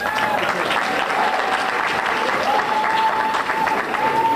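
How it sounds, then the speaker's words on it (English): Steady, loud crowd applause fills the room as a performer leaves the stage at a health-themed event. Dense clapping continues without pause, with faint background voices and a thin sustained tone beneath. "Bigger round of applause, please, as he exits."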